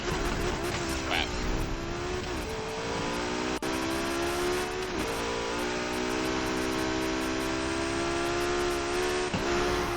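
A car engine revs and drones steadily in the racing video game Need for Speed Heat, with sustained engine tones and gear shifts while a player's voice is heard faintly.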